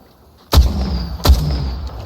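Two sharp, booming gunshots ring out in the video game Titan Halo, spaced less than a second apart, and each one trails off into a reverberant tail.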